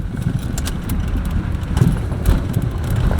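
An old, cheap rally car being started, a rough engine rumble that sputters and builds over a few seconds, close and loud, with no talking.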